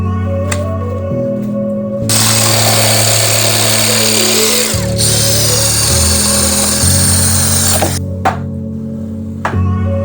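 A small water pump set on top of a bucket for a shrimp tank water change, a steady motor drone with a loud rushing, hissing surge in the middle and small knocks near the end, close by with no talk.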